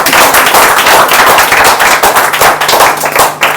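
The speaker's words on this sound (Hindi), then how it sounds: "तो मैं चाहूंगा कि आप जोरदार तालियां जरा पहले अपने लिए बजा के तो दिखाओ।" An audience at a business seminar claps loudly and briskly, with sharp, uneven hand slaps near the microphone and a few heavier thumps mixed in.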